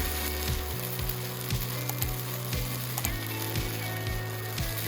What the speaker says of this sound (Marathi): आता आपण याला एक ते दोन मिनटं परतून घेणार आहोत आणि हो ही खिचडी आपल्याला मंद आचेवरच परतायची आहे